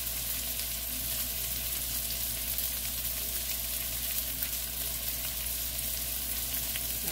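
Thick burger patties fry in a pan, a dense and even close sizzle of spitting fat that continues with no break and no voices.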